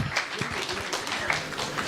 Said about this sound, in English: Give a round of applause here.